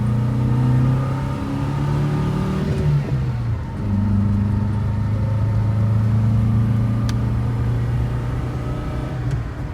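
Lancia Fulvia 2C Berlina driving and shifting into fourth gear: a steady mid-pitched engine drone dips briefly as the gear changes, then pulls on evenly, close and loud throughout.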